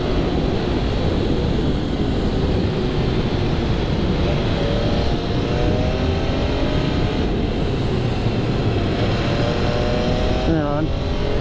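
A 2020 MV Agusta F3 800 motorcycle being ridden under harder braking, with continuous engine and wind roar throughout and a brief falling engine tone near the end as it slows.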